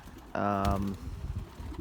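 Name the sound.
racing pigeons cooing in loft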